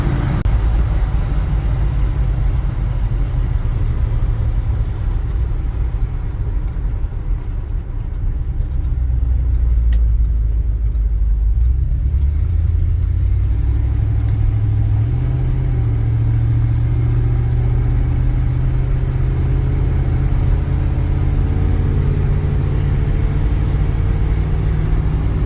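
A 1978 Dodge D200 pickup truck cruising on back roads at about 60 mph and 3,000 RPM, its engine and road noise forming a steady, loud, continuous low rumble with no talking.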